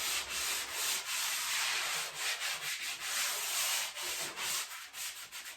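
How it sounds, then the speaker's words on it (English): A sanding sponge rubs over drywall tape during a damaged-tape repair, making close, loud, steady scraping strokes in a continuous back-and-forth rhythm with no talking. "So I'm just going to sand this."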